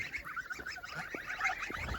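Honking calls of a goose with goslings, repeated several times at moderate distance against an outdoor background, with no talking.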